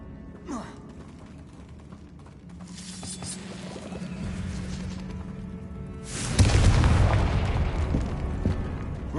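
A Confringo blasting spell in Hogwarts Legacy erupts in a sudden, loud fiery explosion that follows a quieter stretch of low magical hum and ambient rumble.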